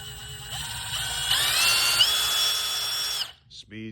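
Ridgid impact driver spinning at speed 2, a steady, loud, close whine with a rising pitch step midway, then it cuts off and a brief voice follows.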